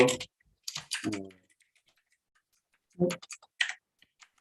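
Bursts of computer keyboard typing on a Dvorak layout, clustered in a few quick runs of clicks with gaps of silence between them, fairly close and moderately loud.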